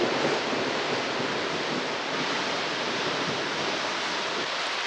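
Shoshone Falls in Twin Falls, Idaho, roaring as a constant, dense wash of rushing water, loud and unbroken for several seconds with no voices.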